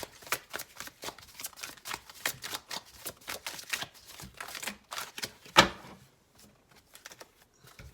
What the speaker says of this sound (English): I'm going to shuffle a little bit more and then I'm going to start pulling for you guys